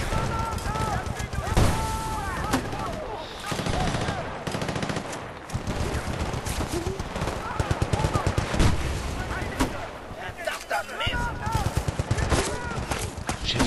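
Battlefield: Bad Company 2 gunfire, rapid machine-gun bursts and scattered shots rattling almost continuously, loud and close, with someone talking over the shooting.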